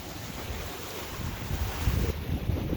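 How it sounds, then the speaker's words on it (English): Steady 12-knot wind rushing past with water washing and swishing along a sailboat's hull at about 6 knots, a continuous broad roar that swells slightly toward the end. "we got about 12 knots of wind here, and the boat's doing about 6 knots through the water"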